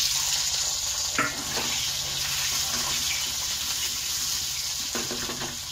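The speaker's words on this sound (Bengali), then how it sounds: "তেলটা গরম হয়ে গেছে, আমি আলুটাকে লাল লাল করে ভাজবো।" Steady hiss of potatoes frying in hot oil, continuous throughout, with a few faint clinks and scrapes of stirring.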